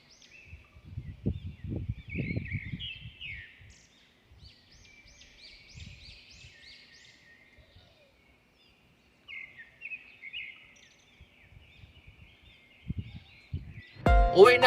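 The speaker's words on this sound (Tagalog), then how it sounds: "Daming malalaking ibon." Several large birds call repeatedly at a distance in a lake park, with bursts of nearby talking before and after and a loud knock at the end.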